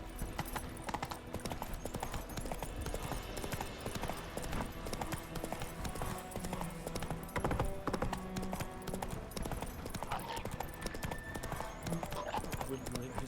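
Roach the horse's hooves in The Witcher 3, a dense, steady clip-clop of galloping under continuous game sound and a talking voice.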